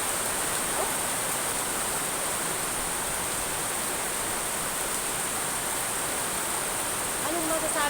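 Sudden heavy downpour beating steadily and evenly as a dense broadband roar, close and continuous, with a faint voice briefly at the end.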